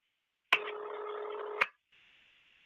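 A burst of telephone keypad dialing tones, one steady dual-tone blast lasting about a second with sharp clicks at start and end, followed by a fainter, thinner tone after a brief gap.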